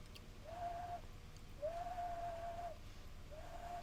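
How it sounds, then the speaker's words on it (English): A single person whistles three times: a short steady note, a longer held one, then another short note, faint against a background hum. "That's a whistle. That's a whistle."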